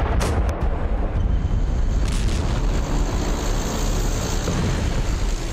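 Gunfire and heavy booms from the Russia-Ukraine war, a dense continuous roar of battle with sharp cracks early on, loud and sustained throughout with no voices.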